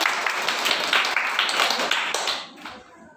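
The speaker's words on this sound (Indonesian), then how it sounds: "Tepuk tangan dong." A primary school class claps hands in a quick, rhythmic patter of many close claps, loud and steady before tapering off at the end.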